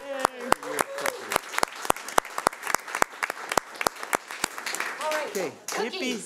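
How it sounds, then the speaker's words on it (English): A small group at a school board of education meeting claps in a sparse, rhythmic pattern of distinct individual claps, with voices talking and cheering over the top toward the end. "let's give Char a round of applause."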